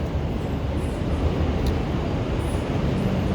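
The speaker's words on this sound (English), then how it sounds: "I just love the Chicago sound of the train." A Chicago elevated train rumbles past in downtown during morning rush hour, a steady loud roar of wheels and cars on the track, continuous for the whole stretch with faint high squeals above.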